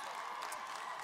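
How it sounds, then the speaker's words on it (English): Graduates at a 2022 spring commencement ceremony applaud in a steady, dense wash of clapping that fills the hall evenly, without any voices rising above it. "Give yourselves a round of applause."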